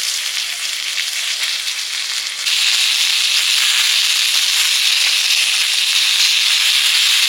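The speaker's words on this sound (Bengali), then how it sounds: "বেগুনগুলো তো প্রায় ভাজা আছে।" Eggplant pieces fry in hot mustard oil with bay leaf and black cumin, giving a loud, steady sizzling hiss that grows fuller partway through, close up with no talk.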